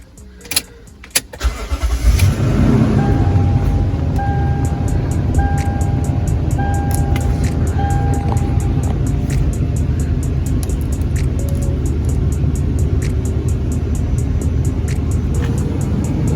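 A replacement A/C blower fan in a car runs steadily after the engine is started, a loud continuous whir and rush mixed with engine drone, following a few sharp clicks at the start.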